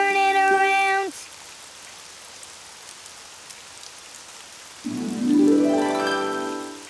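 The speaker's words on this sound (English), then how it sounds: "Oh, it's raining outside." Rain falling outside in a children's cartoon: a soft, steady patter between bright musical tones, which ring out at the start and swell up again near the end.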